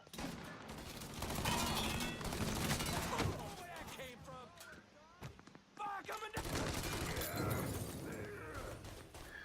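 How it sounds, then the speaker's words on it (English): Tommy gun fire in the video game Mafia III, heard as long continuous bursts of rapid automatic shots with crashing and breaking impacts, loud and dense, with a short lull partway through. "Alright, time to break out the Tommy gun."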